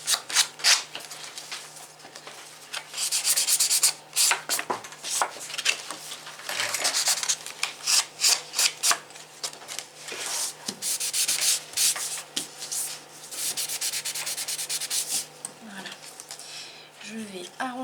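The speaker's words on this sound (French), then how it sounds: "Je vais un peu poncer." A folded paper flap is sanded in repeated rough rubbing strokes, close and fairly loud, with short pauses between bursts and some talking.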